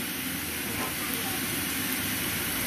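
Spice pastes of garlic, ginger and cumin frying with onions in a pan, giving a steady, dense sizzling hiss that holds evenly from start to finish with no pauses.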